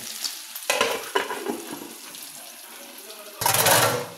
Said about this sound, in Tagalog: Tapos ngayon, tutustayin natin.